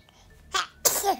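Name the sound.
sneeze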